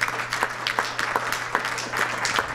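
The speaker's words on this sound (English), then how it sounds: "would you give them a round of applause?" Audience applause for sponsors at a discussion event, a scattered round of claps with a few louder hand strikes, over a low steady hum in the room.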